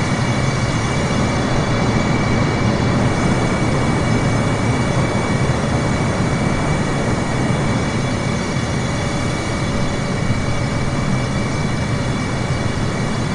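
In Microsoft Flight Simulator, a Garuda Indonesia airliner flies through rain and bad weather, its cabin filled with a loud, steady, unbroken roar of engine and wind noise that never lets up.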